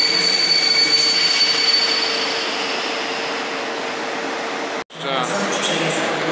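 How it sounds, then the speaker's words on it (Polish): Intercity Matejko passenger train pulling into a station, a steady loud rumble of wheels and cars with a thin high squeal running over it, broken by a brief sharp dropout near the end before the rolling noise returns; a voice speaks faintly underneath. "Z strony wjeżdża Intercity Matejko spóźniony, jeśli dobrze widzę"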